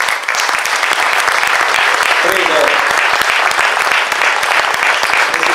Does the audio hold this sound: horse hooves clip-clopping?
no